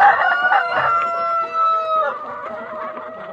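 A rooster on a village farm lets out a long, loud crow that trails off over about two seconds, followed by softer clucking from chickens nearby, close and clear with no voices.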